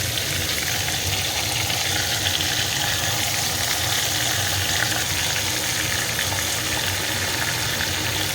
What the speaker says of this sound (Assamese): এতিয়া এইখিনিও ভালদৰে পানী দি গোটেইখিনি মছলাখিনি ইয়াত দি দিম